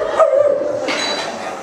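A person on a comedy stage mimics a dog, letting out a short run of whining, yelping barks that stretch into a brief whimpering tone, close and fairly loud with no other talk.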